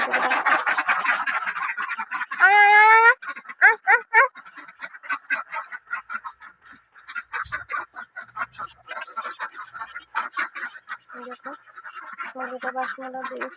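Several ducks quack in bursts inside a duck house, mixed with harmonic honking calls and a busy background of chatter and movement, moderately loud and close.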